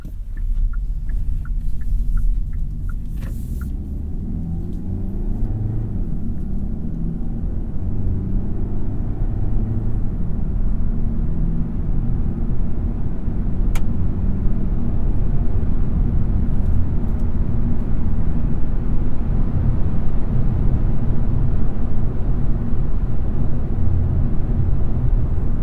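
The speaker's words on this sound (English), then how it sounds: "You hear that hybrid whir that Hyundai puts in there to let pedestrians and others around you know that the car's" A 2021 Hyundai Elantra Hybrid Limited compact sedan emits its low pedestrian-warning whir while driving, heard from inside the cabin as a continuous deep hum blended with steady road rumble, with no talking.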